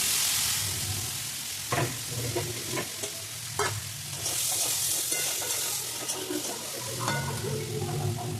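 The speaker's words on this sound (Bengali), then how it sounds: "এবার চিংড়িটা ভাজবো।" Shrimp fry in oil in a pan, giving a continuous bright sizzle with scattered stirring knocks and scrapes close by.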